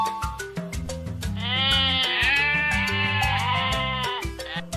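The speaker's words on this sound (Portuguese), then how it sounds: "Se você respondeu que é o som da ovelha, você acertou." A sheep bleats over a bright, busy musical backing, its wavering cry rising clearly above the melody for a few seconds.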